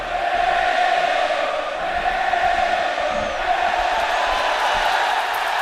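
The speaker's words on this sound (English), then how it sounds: "The standing room only crowd trying to get under Johnny Cueto's skin" A standing-room-only baseball crowd roars and cheers at a Pirates game while Johnny Cueto pitches, a dense, steady wash of voices that swells slightly partway through.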